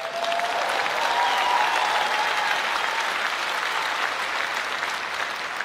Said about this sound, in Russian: А что такие аплодисменты слабые